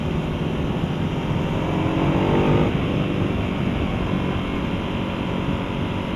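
A 2015 Ducati Hypermotard 821 on a test ride holds a steady, loud engine drone mixed with wind rush, with a brief rise in revs midway.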